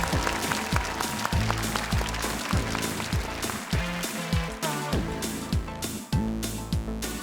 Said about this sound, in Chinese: 让我们现在掌声欢迎今晚的5位女嘉宾出场